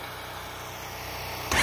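Engine of a 2020 Honda Rubicon ATV cranks with a steady rhythmic chug, then catches with a sudden louder burst at the end, close by on a dark, quiet night outdoors.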